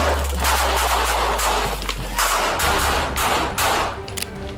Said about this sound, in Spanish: Adekimiri, junto con el oficial Fowler, abrieron fuego para detener la amenaza.